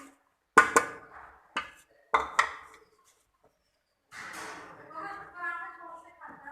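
A few sharp clatters of onions dropping into a pot, followed by a soft sizzle as cooking continues.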